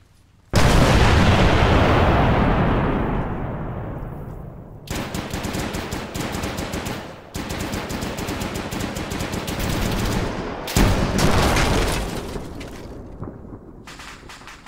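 Loud video game tank battle, opening with a heavy explosive blast that rumbles away, then long bursts of rapid machine-gun fire separated by short gaps, close and dense with no talk over it.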